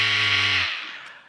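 A DuroFort 8 volt cordless screwdriver driving a screw in, a close, loud buzzing motor whine that runs steadily under load, then cuts off abruptly and trails away.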